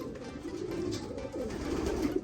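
Racing pigeons coo inside a loft, a soft, low, throaty murmuring that rolls on continuously and close by with no talking.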